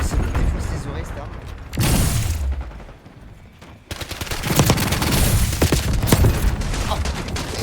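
Heavy automatic gunfire from the Resonator X53, a futuristic weapon in a shooter video game, bursts loudly in long sustained volleys with a brief lull midway, under occasional game noise.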